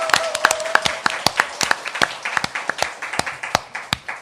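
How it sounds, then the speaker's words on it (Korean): Studio audience claps for a political talk show opening, a sparse group applause of sharp, distinct hand claps at an uneven quick rhythm, fairly close with no voices over it. "여러분의 힘찬 박수와 함께 시작하겠습니다"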